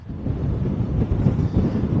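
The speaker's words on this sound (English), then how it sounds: "It's very windy now" Low, rumbling buffets of wind hit the microphone continuously outdoors on a bank during gundog training, loud and muffled, with no other sounds coming through.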